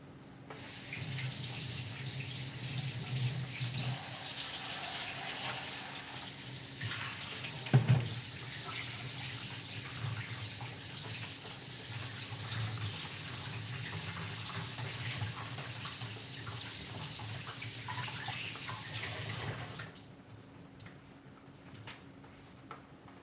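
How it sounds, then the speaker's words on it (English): Tap water runs steadily into a sink during handwashing for nearly twenty seconds, a continuous hiss with a brief clatter partway through, then stops abruptly. "After I wash my hands."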